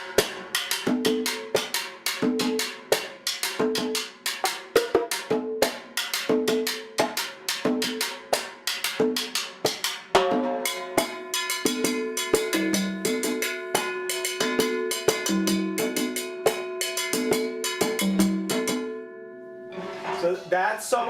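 A drum pattern played with a bare hand and struck on the side of the drum, quick sharp clicks and rings in a brisk steady rhythm that shifts to a denser, more resonant groove midway, close and loud.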